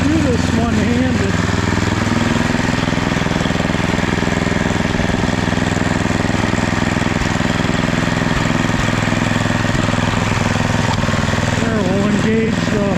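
A restored estate sale snowblower engine runs steadily nearby, a loud continuous small-engine drone with a speech-like murmur in the mix.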